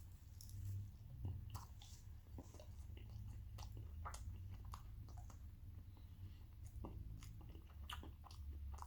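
Someone chews a bite of spinach and halloumi pie close up, with soft repeated crunching and wet mouth sounds over a low steady background hum.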